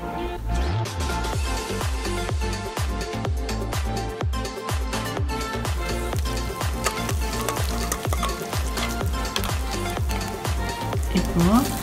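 Dried red chillies, ginger and cinnamon frying in oil for a fish curry, with steady close sizzling and repeated scraping of a spoon stirring the pan throughout.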